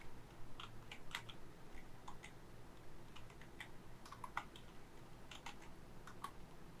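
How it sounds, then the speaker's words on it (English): Steady computer keyboard typing, a run of quick light key clicks in irregular bursts over a faint room hum, close and moderately quiet with no voices. "We can simply type"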